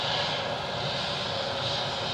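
A British Airways airliner moves along at Edinburgh airport, its engines a steady, moderately distant roar with a broad hiss that holds evenly throughout.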